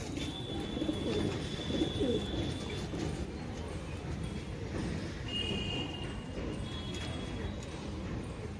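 Racing pigeons cooing, soft and near against a steady low background rumble, with a few thin higher bird calls.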